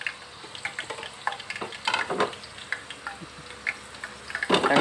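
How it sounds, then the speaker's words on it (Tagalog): Hot cooking oil crackles and spits while vegetables fry in a pan: scattered sharp pops and splatters over a steady soft sizzle, fairly close, with no talking. "Lagtik sa atong mantika."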